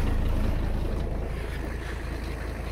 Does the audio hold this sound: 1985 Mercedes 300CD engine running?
yes